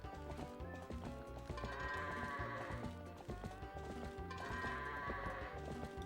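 Goats bleating and animal noises during goat herding in the video game The Legend of Zelda: Twilight Princess, mixed under continuous loud game music, with two drawn-out calls.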